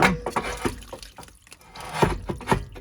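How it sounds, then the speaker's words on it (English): Water draining out of a Dometic 6-gallon water heater on a Jayco travel trailer, irregular splashing and dripping bursts, close and fairly quiet, with brief pauses between gushes. "Oh, there's a shit ton of water."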